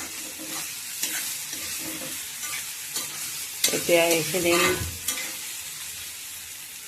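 Carrots and peas frying and being stirred in a pan, with steady sizzling, a few scraping stirs and a louder burst of clatter midway, close by; a brief word of speech is heard.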